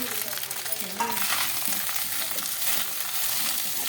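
Vegetables frying in a pan, a steady hiss of sizzling that swells louder midway, with faint stirring movements underneath.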